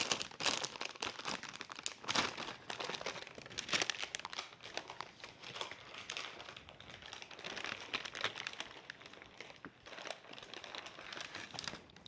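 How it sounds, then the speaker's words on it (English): Parchment paper is peeled away from a freshly baked pumpkin spice latte sponge cake, giving close, continuous crinkling and rustling with small tearing crackles throughout. "And we peel off the parchment."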